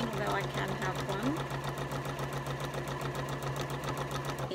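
A GPD X7 sewing machine stitches a quarter-inch patchwork seam, running at a steady fast rhythmic whir with a constant motor hum throughout, close and continuous.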